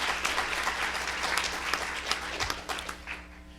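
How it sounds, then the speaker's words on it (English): An audience breaks into a big round of applause, dense steady clapping close and loud across the whole stretch, tapering slightly near the end with no talking over it. "I want to please give them a big round of applause"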